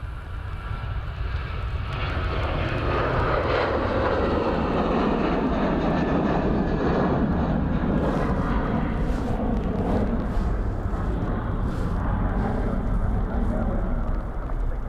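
Jet aircraft engines roar steadily at Dublin Airport in heavy rain, a loud continuous rumble that swells and holds throughout, with rain hiss layered over it.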